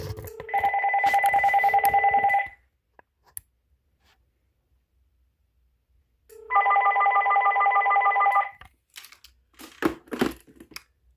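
A Uniden TRU9488 5.8 GHz corded/cordless phone handset gives two separate bursts of steady electronic beeping tones, each lasting about two seconds. Quiet gaps between them hold scattered button clicks and handling noises.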